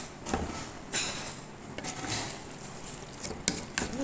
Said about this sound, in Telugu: ఇందులో చికెన్ కూడా వేసేద్దామండి